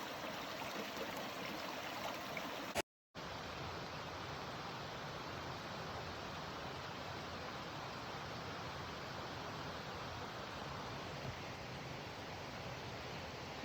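A stream flowing beneath a small metal bridge on a walk at Mt Bromley, a steady broadband rush of running water throughout, broken once by a very brief dropout.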